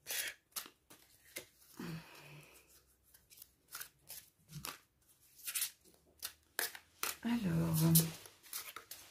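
Oracle cards are shuffled in short papery riffles and slides spread through the stretch, with a person talking between and over the bursts.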